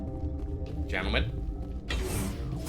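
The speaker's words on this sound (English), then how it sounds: "we made it to an elevator" A Mass Effect 1 elevator moves with a low mechanical whirr and two brief rising surges of machinery, largely under a voice talking.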